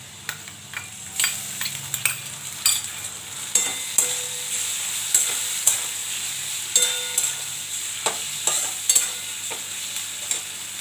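Poppy seed paste frying and being stirred in a pan, a steady soft sizzle under repeated scraping and clinking strokes of a spoon against the pan at an irregular rhythm, close and moderately loud.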